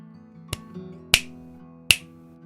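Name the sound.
finger snap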